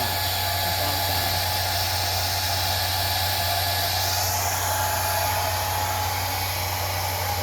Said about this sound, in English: Just let the blow dryer like get at it.